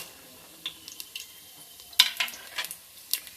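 Spices frying in oil in a pan for a chicken kolambu give a soft, faint sizzle, with a few sharp little pops and crackles and light stirring scrapes.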